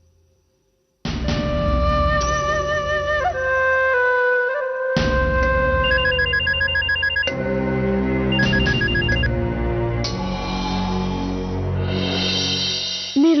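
A telephone rings loudly and continuously in a home, a bright electronic melodic ringtone that repeats with short shifts in pattern, with no one speaking over it.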